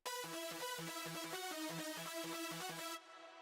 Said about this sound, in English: My reverb sounds like this.